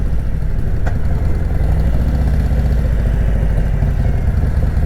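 A custom 2018 Harley-Davidson Road King Special idles with a steady, loud, deep rumble and a lumpy low pulse, heard close up with no talking.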